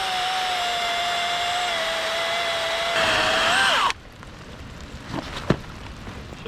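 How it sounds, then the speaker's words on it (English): An electric chainsaw cutting dead wood for firewood whines steadily at a high pitch for about four seconds, then cuts off, leaving quiet outdoor ambience and a single knock. "out here with his electric chainsaw cutting up some dead wood that was laying here"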